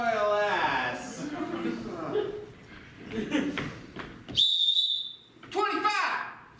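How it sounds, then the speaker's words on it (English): A shrill whistle blast sounds suddenly and loudly after talk and laughter on a stage, followed by a second, shorter trill as voices resume. "Hey, I got a whistle in here."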